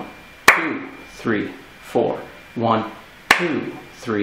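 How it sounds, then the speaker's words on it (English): Two sharp hand claps land on downbeats, several seconds apart, while a voice counts the beats aloud in a beginner classical piano lesson. "I'm going to put my hands together here and clap as I count the first beats"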